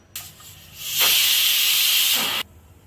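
A pressure cooker on a stove, used for a Kerala-style beef heart roast, gives one loud, sustained whistling hiss of escaping steam after a short faint lead-in, holding steady for over a second before cutting off sharply.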